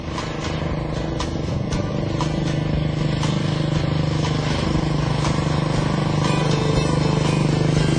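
A Royal Enfield Bullet motorcycle engine idles with a steady, deep thumping rumble, loud and close throughout, with faint clicks and clatter on top.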